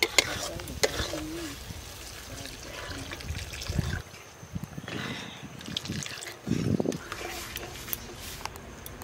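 Water poured into a hot pan of small-fish and green-pea curry, with a soft sizzle and trickle, stirring and scraping, and a few faint background voices.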